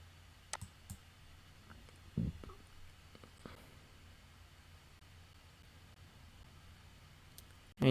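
Computer mouse clicks, a few sharp isolated ticks spread across a quiet room with a low background hum, a louder click at the very end.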